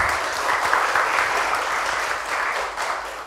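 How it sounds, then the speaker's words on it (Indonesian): A crowd applauds steadily at a talk event, a dense wash of clapping that holds for a few seconds then tapers slightly. "Tepuk tangan dong, tepuk tangan dong."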